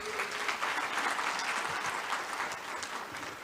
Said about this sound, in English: Please do give yourselves a good round of applause.